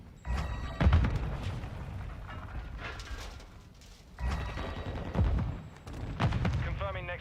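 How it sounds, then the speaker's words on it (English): Gunfire and a Semtex grenade blast in Call of Duty Modern Warfare II, several heavy booming hits and bursts of shots spread through the clip, mixed with voices and game chatter. "Semtex out!"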